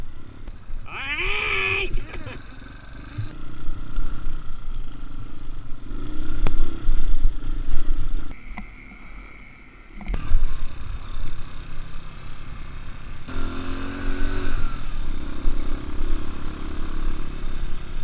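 Motorcycles at a Motofest event rev and ride past, engine roars rising and falling with a loud burst of revving midway and steady motor rumble throughout, plus some brief clatter.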